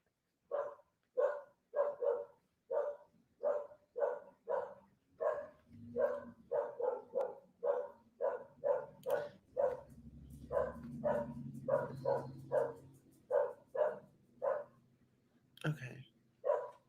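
Dogs bark in a steady run of sharp, evenly spaced barks, fairly close, continuing for many seconds while a low rumbling background and some voices sit underneath.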